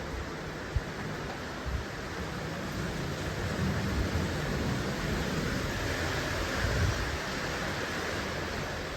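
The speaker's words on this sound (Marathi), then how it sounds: "सगळा उलटा सुलटा पाऊस पडून राहिला" Steady, dense heavy rain roars without a break, a broad wash of noise with a couple of faint low knocks early on, falling on a house with metal roof sheets during a storm with frequent lightning.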